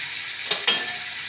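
Chopped tomatoes and green chilies hit okra frying in a pot and get stirred in, a steady close sizzle with two quick scraping stirs.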